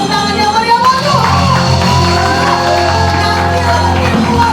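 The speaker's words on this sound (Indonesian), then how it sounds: "Yang bersuka cita tepuk tangan yang meriah buat Tuhan." A church congregation at a Christmas carol service breaks into loud, sustained cheering and shouting over ringing music, a dense crowd noise filling the hall.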